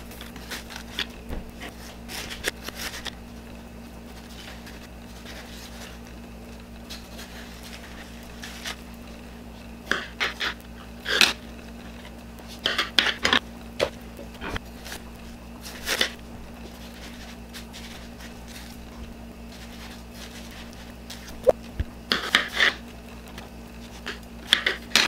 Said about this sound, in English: I'm gonna cut up a watermelon right now.